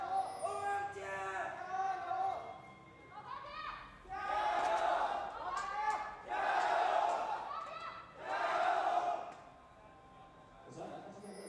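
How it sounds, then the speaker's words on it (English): Crowd at an LPL Spring 2021 esports match between LGD and OMG cheering in swelling waves, several loud surges with chanting-like tones rising over a steady arena murmur. "The crowd's cheering, ready."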